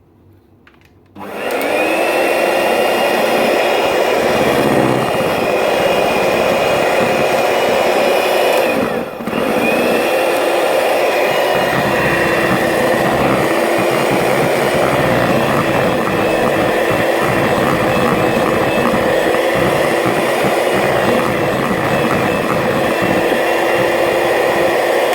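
An electric whisk beats eggs and vanilla extract into a muffin batter, starting up sharply into a loud, steady high whine with one brief dip partway through before it runs on continuously.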